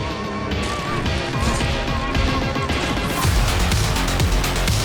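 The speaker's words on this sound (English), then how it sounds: "And why am I hearing that bell?" Bell struck inside the Dark Souls II boss arena, ringing through a dense, continuous clatter of loud crashing impacts that grows heavier partway through.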